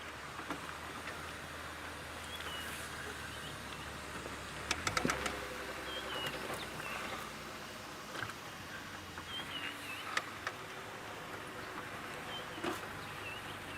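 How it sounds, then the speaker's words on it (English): Several birds call together somewhat far ahead on a sunrise safari game drive in the African bush, with scattered chirps and a few sharp calls over a steady outdoor hush, and no one talking. "You can hear a bit of a bird party up ahead."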